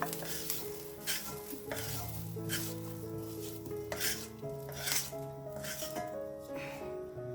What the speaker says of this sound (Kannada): ಬೆಳ್ಳುಳ್ಳಿ ಏನ್ ಜಾಸ್ತಿ ಹೊತ್ತು ಹುರಿಯೋದು ಬೇಡ ನೋಡಿ ಇಷ್ಟು ಹುರಿದ್ರೆ ಸಾಕು